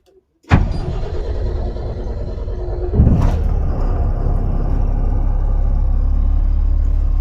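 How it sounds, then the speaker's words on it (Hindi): The diesel engine of a Mahindra Blazo BS6 M Dura tipper truck with a long-cranking fault fires abruptly and settles into a loud, close rumble, then surges again a few seconds later before holding a steady idle. "अभी देखते हैं गाड़ी स्टार्ट करके"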